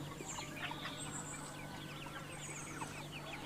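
Village hens, just let out, cluck softly and repeatedly at close range over a faint steady hum, with short overlapping calls scattered through the quiet scene.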